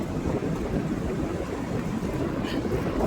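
Strong wind blows steadily at a seaside fishing spot in North Wales, a loud continuous roar buffeting the microphone for the whole stretch with no talk over it.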